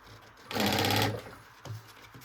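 Sewing machine stitching a safety seam on a backpack, one loud sustained burst of stitching lasting about half a second, then short fainter bursts of machine noise.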